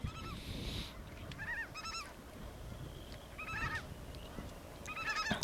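A gathered flock of brant geese honks and chatters in repeated bursts of harsh, nasal calls during banding, close by and fairly loud over a steady rumbling background.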